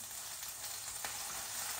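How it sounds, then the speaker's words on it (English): Constant crackling sizzle of a burger patty frying on a hot grill, dense and steady throughout, no voices. "you're just going to leave it to sizzle away"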